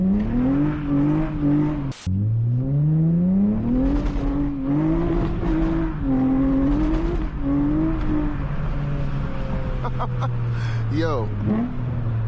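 A loud 7th generation Honda Accord V6 engine driving through city streets, heard from inside, rising and falling through repeated revs and gear changes with a strong steady drone; a voice speaks briefly over it.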